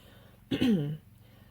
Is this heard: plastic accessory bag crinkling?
no